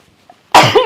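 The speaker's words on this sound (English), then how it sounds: "I gotta sneeze" After a moment of near silence, one sudden, loud human sneeze bursts out close to the microphone and trails off with a breathy tail.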